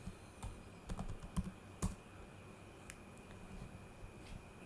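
Keystrokes on a computer keyboard as a name is typed into an Excel sheet: a few quick clustered taps, then scattered lighter clicks, close and fairly quiet, with no talking.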